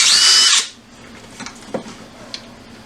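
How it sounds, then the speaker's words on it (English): A power drill boring holes in a bone: a loud, high-pitched whine for about half a second, then a stop followed by a few faint knocks and handling clicks. "you're going to want to drill a few more holes in this bone to get started."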